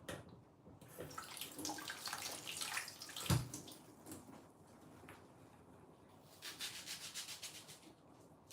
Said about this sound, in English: So that's why I always wash my onion before I slice it.